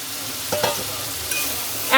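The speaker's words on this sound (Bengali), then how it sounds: "এখন সেই ছেঁচে রাখা শুটকিগুলো আমি দিয়ে দিব" Pounded dried loitta fish tipped into an onion-garlic masala frying in a pan, heard as a short burst of close sizzling and stirring scrapes, with a louder hiss at the very end.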